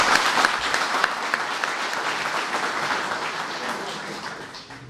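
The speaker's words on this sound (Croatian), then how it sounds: "Ovo je simpatično i kad ste problem dobijete aplauz" Audience at a public forum applauds, dense sustained clapping filling the room, gradually thinning toward the end.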